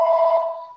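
A phone alert sounds once as a single sustained electronic tone, fairly loud and close, that fades away at the end during a meeting.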